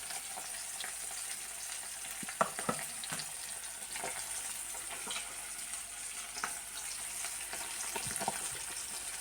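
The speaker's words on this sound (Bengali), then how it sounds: "তো হালকা আছে লাল করে আমি মাছটা ভেজে নিই" Fish pieces frying in a pan for a raw banana fish curry, a faint steady sizzle broken by scattered spatula taps and light stirring sounds.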